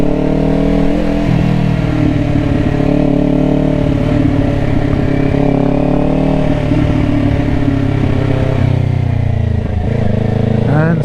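A 2024 Kawasaki Ninja 500 motorcycle engine runs steadily up close with a throaty mid-pitched drone, its revs rising and falling slightly while someone talks over it throughout.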